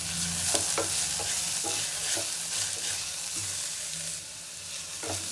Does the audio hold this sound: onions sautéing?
yes